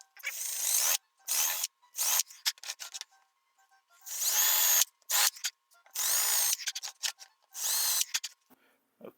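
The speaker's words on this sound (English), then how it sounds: "now we're just going to countersink." A power drill countersinks mounting holes in wood for a key caddy, running in short bursts of whirring and grinding with brief pauses between, close and fairly loud.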